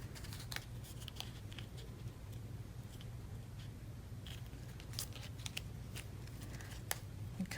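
Scissors trimming excess from a paper gift tag for a crafted Father's Day project, a series of quick, close snips in uneven bursts over a low room hum.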